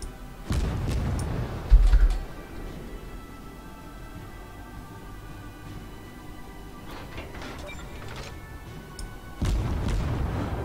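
Naval guns and shell explosions in the video game World of Warships: a few muffled booms near the start and again at the end, fairly faint, separated by a low hum.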